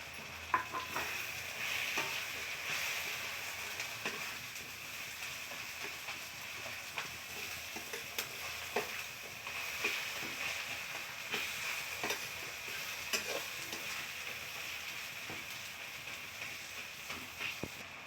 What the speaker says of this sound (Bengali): এবারে আমি পেঁয়াজ কুচি দিচ্ছি এতে